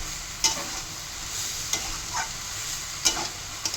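A spoon stirs ash gourd curry with grated coconut in a pan, scraping in a few sharp strokes over a steady soft sizzle of frying, close and alone.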